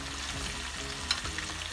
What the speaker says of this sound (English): carry on frying the rest potatoes.